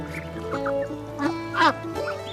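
Chickens clucking and calling close by in a rural provincial setting where someone is eating outdoors, with several short, rising and falling calls over a low background.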